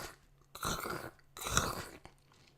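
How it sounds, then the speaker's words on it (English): Crunchy snack food being chewed in two loud bursts close to the mic, the crisp crunching separated by a short pause, with no talk. "when you're eating food, especially those crunchy sound food"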